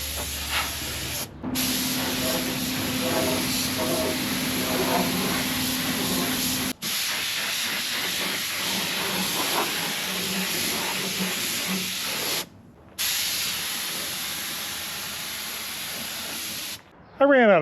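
Spray painting a 50-year-old VW dune buggy outdoors in picking-up wind, a steady broadband hiss of the sprayer running in long passes with a few brief stops and a low hum beneath.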